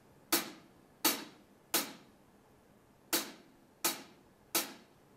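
A beatboxer's voice imitates hi-hat cymbals with six crisp, hissing ticks in an uneven rhythm, each a sharp burst that fades quickly, close and clear against quiet background with no talking.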